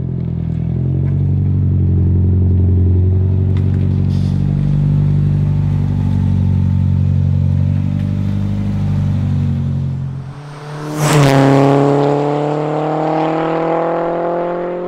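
The engine of a Toyota Celica GT4 Carlos Sainz Edition on the move, a loud, steady drone heard from close by. Near the end a gear change cuts it off briefly, and then the revs climb again.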